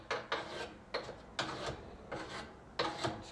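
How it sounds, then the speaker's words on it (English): A fine diamond file rasps over a hedge trimmer blade in short, separate strokes, about six quick passes of gritty scraping close by, with brief pauses between them and no talking. "I'm going to take the smooth part of the file. This is a really fine diamond file."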